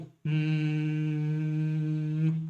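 A voice imitates a transformer's steady electrical hum, holding one low, buzzy, harmonic-rich drone for about two seconds after a brief pause, close and loud.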